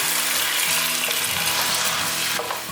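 Seasonings stir-fried in a pan with a splash of water added, a steady close sizzle with scraping of the spatula and bubbling, continuous throughout without voices.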